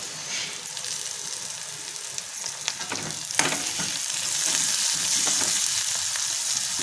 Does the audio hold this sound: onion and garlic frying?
yes